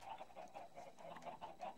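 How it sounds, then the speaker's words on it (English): Chickens in the Minecraft video game, escaping over dynamite, give a quick run of repeated clucking calls. The calls are moderately loud, with no talk over them. "Some of the chickens are escaping."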